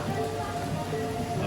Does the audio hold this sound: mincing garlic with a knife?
no